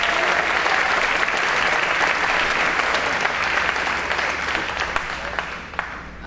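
Sustained applause from a large audience at a high school awards ceremony, dense steady clapping that slowly thins toward the end.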